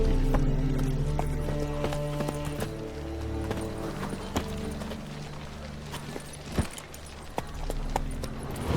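Hooves of the horse Roach clip-clop in The Witcher 3, a steady walking rhythm of distinct close hoofbeats over low ambient tones, with tack jingling and a few louder knocks.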